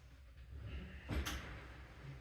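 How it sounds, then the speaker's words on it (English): An oven door swings shut in a home kitchen after baking brownies, giving one brief, fairly soft thud and clack in a quiet room. "put this here for a second till I close the door."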